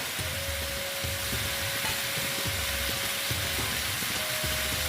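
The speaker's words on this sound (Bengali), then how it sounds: "ভালো মতন কষিয়ে দিচ্ছি কষাতে কষাতে আমি দেখো ছোলাটা যে সেদ্ধ করে নিয়েছিলাম এই ছোলাটা আমি দিয়ে দিলাম" Boiled chickpeas stir-fried in a pan, a continuous dense sizzle with repeated soft scraping and stirring strokes, close up and without talk.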